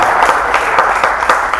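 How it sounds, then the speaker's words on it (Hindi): Audience at a Hindi poetry recital applauds loudly and close by, a brief continuous burst of clapping. "श्री साहित्य सरगम का एक बार आप सब तालियां बजा दीजिए।"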